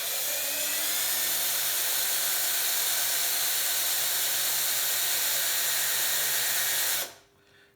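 A drill boring the second hole in a gravel touring bike frame, a steady high whine holding constant for about seven seconds before cutting off abruptly into near silence.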